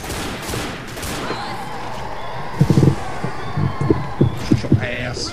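Short bursts of gunfire in the video game Left 4 Dead, a few quick rattling volleys in the second half, under a loud, dense wash of game noise.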